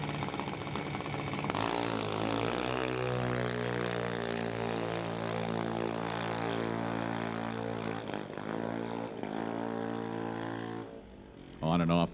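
A drag racing engine at a Lordco TV event called Doorwarz, revving loud and steady as the driver works on and off the throttle at the top end, with a dip near the end before a final burst.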